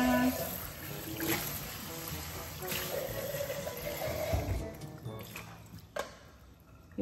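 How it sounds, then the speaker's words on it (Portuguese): Very hot water runs and splashes over a plastic baby bottle being washed, giving a steady trickle with drips and a few sharp knocks of plastic. "Então, eu lavo com água bem quente."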